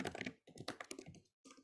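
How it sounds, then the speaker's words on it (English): Quick bursts of computer keyboard typing, close and fairly quiet, in two runs of rapid key clicks separated by a brief pause. "I think that was a sound of typing."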